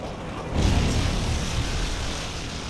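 Predator missile strike in Call of Duty MW3, a loud, dense roaring rush of broadband noise that swells after a brief moment and holds steady with a low rumble underneath.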